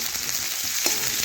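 Onion and garlic fry in hot oil after whole cumin and dried chilli went in, a dense continuous sizzle heard close up with one brief stirring knock and no voices.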